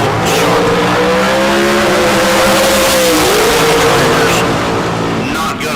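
Drag racing dragster with red and yellow airbrushed paint at a bracket race, its engine roaring loudly and continuously with rising revs and tire noise, under an announcer's talk.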